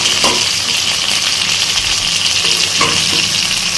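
Broiler chicken pieces fry in hot oil in a pan, giving a steady, dense sizzle with a few faint utensil clicks, close and continuous with no voices.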